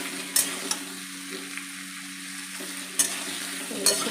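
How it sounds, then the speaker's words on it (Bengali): Panch phoron spices frying in oil crackle with a soft, continuous sizzle, broken by a few sharp utensil clicks against the pan and a low steady hum underneath. "এগুলো খুব ভালো করে আমি লাল করে এবার ভেজে নেব 2-3 মিনিট ধরে"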